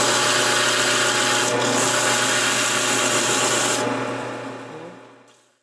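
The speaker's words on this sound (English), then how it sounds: "I'm going to sand off the excess so that the two copper and silver bands are meeting up with each other perfectly" Power sander grinding excess metal from joined copper and silver bands, a loud steady whirring rasp close up that changes pitch partway through, then winds down and fades at the end.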